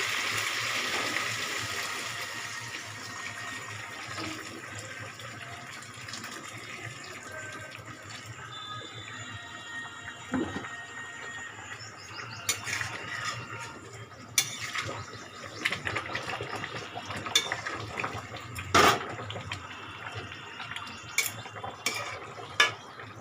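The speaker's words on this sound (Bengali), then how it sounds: "এবারে গরম জল দেবো" Hot water is poured into a cooking pot of sautéed spiced potatoes, a soft running pour mixed with metallic clinks and clattering utensils.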